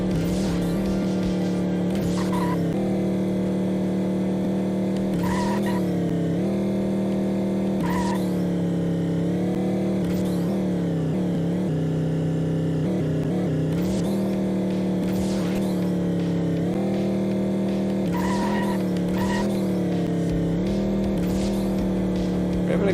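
Race cars in a racing video game hold a steady engine drone, with repeated tire squeals and skids rising over it. The sound is continuous and loud, and a voice can be heard faintly in places.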